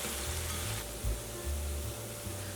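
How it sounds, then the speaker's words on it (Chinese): Corn stir-fried in a pan with edamame and carrot makes a faint, steady sizzle, with soft low scraping and stirring bumps from time to time. "最后放入玉米，炒拌至水分快收干，大约1分钟左右。"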